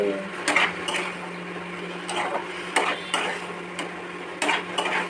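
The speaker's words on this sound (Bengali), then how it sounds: "লবণ আর হলুদ দিয়ে ভাজবো" Durga chhatu mushrooms fry in a pan with salt and turmeric: a steady close sizzle broken every second or so by louder scraping stirs against the pan, with no talking.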